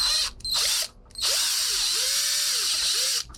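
A power driver running M4 Allen head screws into a DIY assist hook spacer and puller tool whines loudly in close bursts, stopping briefly twice, with the pitch bending as each screw seats.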